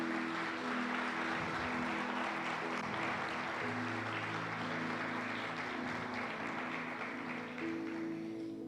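Church congregation applauding during a Spanish-language sermon: a steady, dense wash of clapping throughout, with sustained tones, likely from a keyboard or organ, running beneath it.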